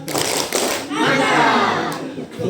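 Group of schoolchildren doing rhythmic tepuk mantap clapping at an elementary school event, a few sharp claps then a sustained burst, with children's voices mixed in.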